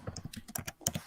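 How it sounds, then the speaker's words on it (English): Quick, uneven keystrokes on a computer keyboard, close and fairly quiet, with a slightly hollow, clacky tone and no talking. "Typing."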